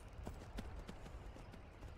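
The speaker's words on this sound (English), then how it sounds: "maybe I'll just steal a horse" Horse hooves clip-clop in a quick steady rhythm as a horse gallops in Skyrim. The beat is clear and close but quiet, and no one speaks.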